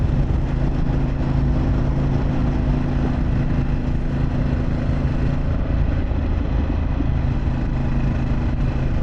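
A Harley-Davidson Pan America motorcycle fitted with a Vance Hines exhaust rides along a road, its loud, steady engine drone running unbroken with wind rush throughout.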